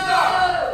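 A wrestling crowd loudly jeers and roars at Bobby Orlando, a dense, sustained wall of voices close and continuous throughout.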